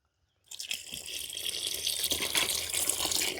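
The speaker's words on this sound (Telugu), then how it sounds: "పులుసుకి సరిపడా నీళ్ళు పోసుకుందాం." Water poured into a pot of tamarind fish curry starts abruptly after a short silence, then runs as a steady close splashing stream that grows slightly louder and keeps going.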